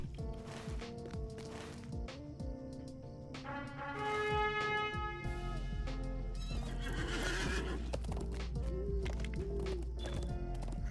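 Horse whinnies and hoof clip-clop from a mount in The Lord of the Rings Online, with repeated loud neighs over steady hoofbeats, set against a busy game music and ambience bed.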